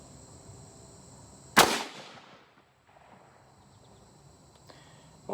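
A single sharp gunshot from a Howa 1500 Varminter .223 rifle cracks loudly outdoors and decays into a short echo, with faint insect buzz in the background before and after.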